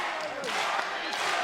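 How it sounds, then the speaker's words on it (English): A wrestling crowd cheers and roars loudly and steadily through a main-event title match at Yoyogi Second Arena in Tokyo, with swells of noise filling the hall. "The crowd here going crazy for the action here in this main event."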